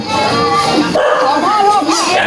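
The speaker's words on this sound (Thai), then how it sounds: "หมาก็เห่าเลย" A dog barks and yips in short bursts, close by, over steady background noise and a voice talking.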